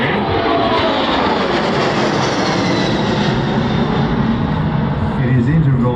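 A military aircraft at the Wings Over Illawarra airshow in Australia roars as its engines power up, a loud, steady, broadband rumble that holds throughout while a commentator talks over it.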